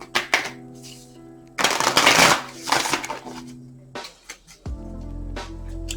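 Tarot cards being shuffled by hand in short, dry riffling and sliding bursts, with a louder flurry in the middle and softer handling before and after, close up with no talking.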